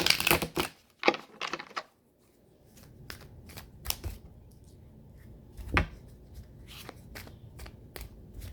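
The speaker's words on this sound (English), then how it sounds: "One more shuffle." A deck of tarot cards shuffled by hand in a run of crisp riffles and soft taps, close and quiet, with a brief pause between bursts and no one talking.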